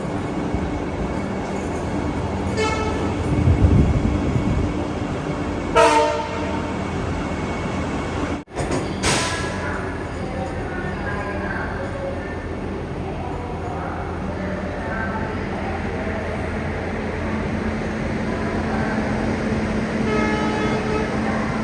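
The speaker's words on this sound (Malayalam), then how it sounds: "നമുക്ക് പോകാനുള്ള ജനശതാബ്ദി എക്സ്പ്രസിൻ്റെ ലോക്കോമോട്ടീവ് ഇതാണ്, WP7." A Jan Shatabdi Express train hauled by a WP7 locomotive runs between Hubballi and KSR Bengaluru in Karnataka. A loud, continuous rail rumble carries brief tonal horn-like notes near the start, and a sharp knock comes midway.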